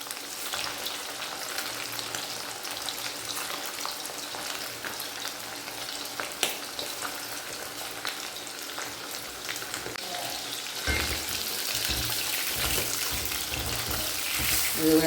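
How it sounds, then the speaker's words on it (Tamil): Pieces of chicken breast fry in a pan for dragon chicken, giving a continuous close sizzle with occasional stirring scrapes. The sizzle grows louder and brighter near the end. "ஒரு பக்கம் வெந்ததுக்கப்புறம் திருப்பி விட்டு நல்லா வேக விடுங்க"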